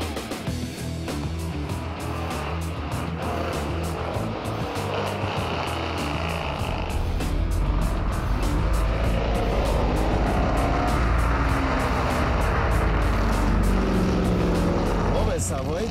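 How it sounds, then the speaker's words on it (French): A Chevrolet Corvette engine rumbles loudly and steadily up close, and its revs rise and swell over a continuous low roar. "Je viens de donner 2-3 petits coups d'accélérateur."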